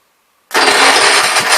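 A 1973 John Deere 110 garden tractor engine bursts into life after a moment of silence, suddenly loud and close, then runs on with a rough, pulsing roar.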